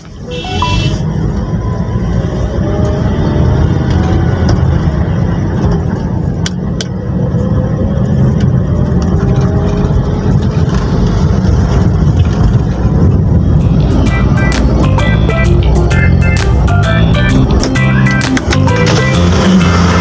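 Motorcycle ridden at night by a ride-hailing driver, a loud continuous engine drone with wind as it accelerates and cruises along a road, occasional clicks and faint traffic horns.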